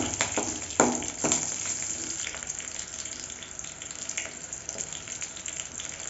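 Slit green chillies frying in oil with urad dal and curry leaves, a steady close crackling sizzle with a few louder pops early on, no voices.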